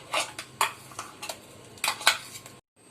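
A spoon scrapes ground amaranth paste out of a mixer jar into a bowl, giving a series of sharp metallic clinks and taps, some in quick pairs, at close range and moderate volume.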